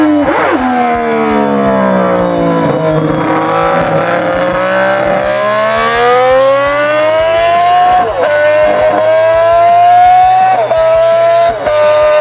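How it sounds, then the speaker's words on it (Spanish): High-pitched Honda RC 166 racing motorcycle engine screaming at full throttle, its shrill whine sweeping down and back up through gear changes, loud and close with a sustained siren-like wail and brief dips between shifts. "Escuchar una RC 166 a fondo es entender que el motociclismo también puede ser arte."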